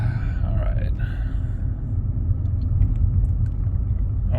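Ford Fusion plug-in hybrid pulling away through a Florida neighborhood, heard from inside the cabin as a steady low road and motor rumble, with a voice talking briefly near the start.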